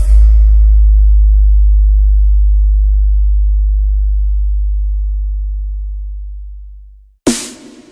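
A deep sustained bass sine tone from a DJ sound check at a carnival sound system, loud and steady before slowly fading out, followed by a brief sharp hit at the end.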